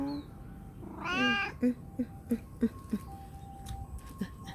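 A three-month-old Persian kitten gives one clear meow followed by a string of short, soft mewing chirps, close and fairly quiet against a hushed room.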